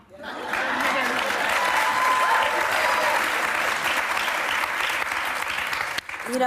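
A television studio audience cheers and applauds in a dense, steady roar that holds at full strength for several seconds before briefly dipping near the end.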